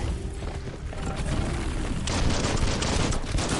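Dense gunfire rattles through a chaotic firefight, with bursts of shots and booming impacts layered into a continuous roar that grows heavier partway through, no voices present.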